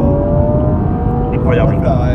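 BMW M135i engine accelerating, a steady, loud engine drone heard from inside the car while people talk over it.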